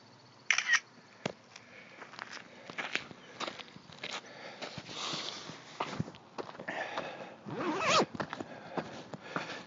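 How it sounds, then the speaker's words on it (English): A zipper pulled open and closed several times outdoors on a hiking trail, close and crisp, with quick rasping strokes separated by short pauses and faint rustling. "The zip will be the loudest feature today."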